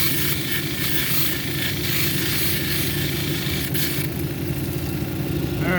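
Lapidary grinding wheel at 280 grit shaping a red velvet agate cabochon, a continuous close whirring rumble with gritty scraping texture that shifts slightly as the stone is pressed and moved, no speech.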